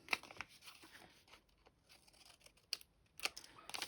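Scissors snip the corners off fabric pocket tags in a few quick, faint cuts with crisp papery crunches, separated by quiet pauses.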